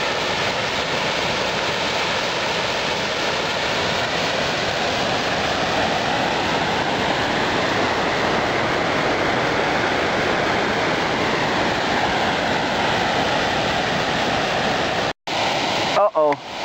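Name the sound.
water flowing out of the Erie Canal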